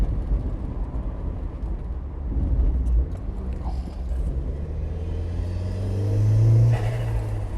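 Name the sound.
turbocharged Mk1 Mazda MX-5 accelerating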